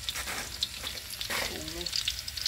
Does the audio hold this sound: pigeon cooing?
no